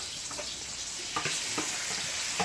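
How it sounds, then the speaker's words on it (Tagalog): Food frying for a home lunch dish, with a steady, loud sizzle throughout and occasional stirring clinks, no talking. "Niluluto na niya yung aming pang lunch na ulam."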